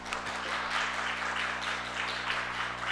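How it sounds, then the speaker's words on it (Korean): A church congregation breaks into dense, steady applause mid-sermon, a continuous wash of many hands clapping in a large room under a low hum. "설교 중이지만 박수 한번 쳐야 돼요."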